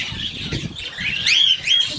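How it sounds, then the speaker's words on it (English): Small birds in an aviary give quick, high chirps and tweets over a soft background rustle, several calls overlapping in short bursts close by. "There's about 200 birds in here."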